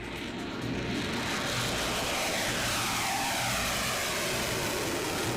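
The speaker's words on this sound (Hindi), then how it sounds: "कई टाइफून जेट साइप्रस के एक एयरबेस से उड़ान भरकर अपने टारगेट की तरफ ऐसे ही बढ़ते दिख रहे हैं।" Several Typhoon fighter jets in flight toward a target after taking off from an airbase in Cyprus, heard as a continuous broad engine roar that swells slightly and sustains, moderately loud with no voices.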